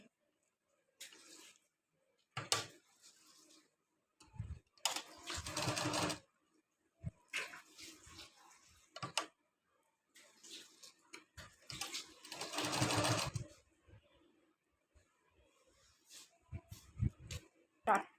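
A sewing machine stitches fabric in short, rattling bursts, starting and stopping repeatedly, with a person talking in between.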